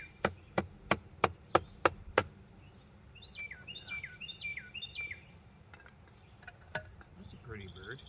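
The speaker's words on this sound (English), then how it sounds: "Pretty bird." Bird chirps and trilling calls, fairly faint, come in short repeated phrases after a run of sharp banging knocks from a guard-rail repair.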